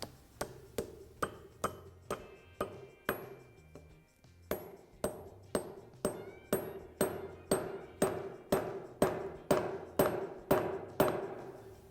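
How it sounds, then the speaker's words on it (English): Steady, evenly spaced hammer blows driving a wedge into a titanium forging hammer's handle, about two per second, each a sharp metallic strike with a brief ring, continuing for the whole stretch. "let's drive that wedge in."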